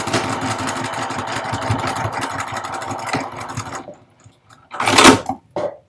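Sewing machine stitching a seam across a corner of a three-compartment roll-up fabric organizer, a steady close mechanical whir running for nearly four seconds, then stopping, followed by a few short bursts of handling noise.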